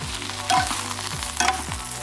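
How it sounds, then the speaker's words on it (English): Kale sautéing in a hot pan, a bright crackling sizzle with repeated scraping strokes of a utensil tossing the leaves, close and fairly loud. "I'm just gonna saute the kale really quick"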